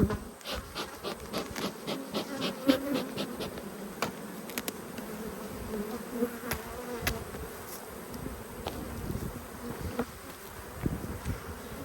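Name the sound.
honey bees buzzing around hive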